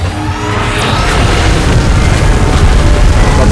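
Mechagodzilla fires a beam in PUBG Mobile's Titans: The Last Stand mode, a loud, sustained rumbling blast that roars continuously for several seconds with heavy low-end boom and no pause.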